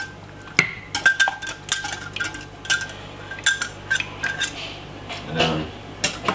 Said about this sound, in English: I like to use a fork and just whisk it out like that